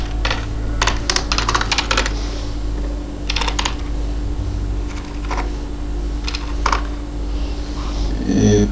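Code is typed on a computer keyboard in quick bursts of clicking keys, close and fairly crisp, with pauses between runs over a steady low hum.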